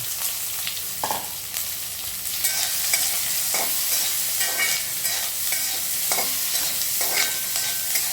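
Sliced shallots and pieces of coconut sizzle steadily in hot oil while being stirred, a dense continuous frying hiss broken by regular scraping strokes of the spoon against the pan, close and fairly loud, with no voices.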